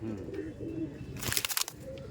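Pakistani and Oman teddy pigeons coo steadily up close, broken by a short burst of flapping or rustling midway, with faint voices in the background.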